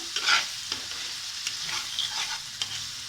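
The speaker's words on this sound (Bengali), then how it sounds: "আমরা মশলাটাকে একটু ভুনা ভুনা করে নেব" Spice paste (masala) for mustard hilsa curry fries in a pan, a soft steady sizzle broken by scraping stirs, close and fairly quiet with no talk.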